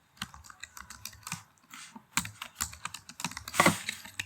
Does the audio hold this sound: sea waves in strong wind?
no